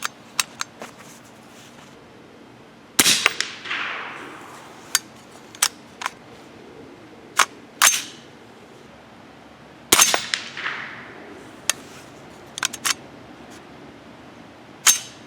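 A 300 Blackout rifle cycling 208-grain Hornady match rounds: two loud metallic slams of the action, each followed by a scatter of sharp clicks and clacks from handling, close and alone without speech.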